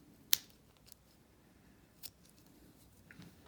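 Scissors trim the inner strands of a nylon paracord, making two quiet, crisp snips about two seconds apart with soft handling rustle between them, in an otherwise hushed space.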